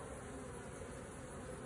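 Honey bees buzzing steadily at close range while a hive is opened for a summer inspection in South Alabama, a continuous faint insect drone with no talk.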